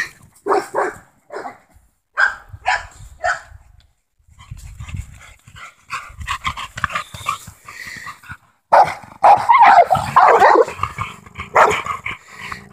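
Several bully-breed kennel dogs bark in short repeated bursts, close and loud, with yips and panting between volleys and a denser flurry of barking toward the end.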